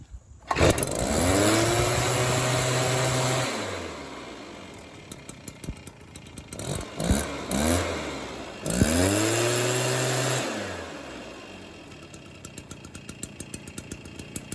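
A Stihl BR400 backpack blower engine starts and revs up under throttle, holding a loud rising whine, dropping back to a rough idle, then surging again before settling into a ticking idle, close and alone without talk.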